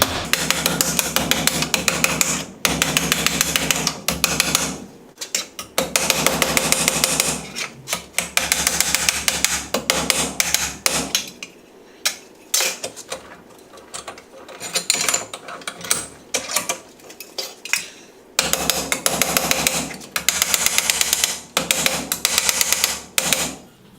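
Steady, loud hammer blows beat sheet metal into a bend over angle iron clamped in a vise on a Chevelle project, rapid metallic strikes in long bursts broken by brief pauses.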